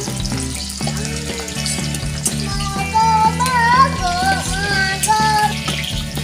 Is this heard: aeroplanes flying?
no